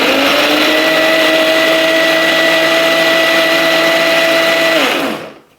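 A kitchen blender grinds a batter of rice, jaggery and banana, a loud steady whirring motor drone held evenly for several seconds before spinning down to silence.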